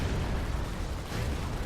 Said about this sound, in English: There's a Commander explosion.